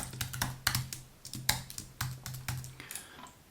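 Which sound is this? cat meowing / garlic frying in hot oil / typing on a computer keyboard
typing on a computer keyboard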